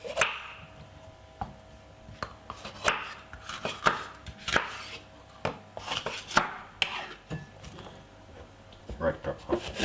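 A knife chops red pepper on a board for a simple apple and mixed-leaf salad, a quick irregular series of sharp close taps in bursts, with brief pauses and a voice speaking briefly in between.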